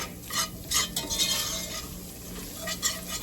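Flour being stirred into coated vegetables in a soup pot, cooked for about a minute for chicken gnocchi soup: close scraping and stirring strokes with a soft sizzle, the spoon knocking the pot now and then.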